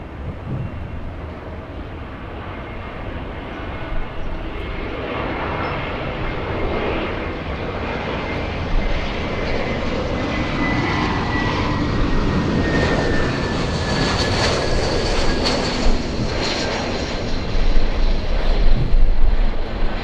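A jet airliner takes off at LAX and climbs into the clouds, its engine roar loud and broad, building steadily with a high whine sweeping across the sound as the plane passes.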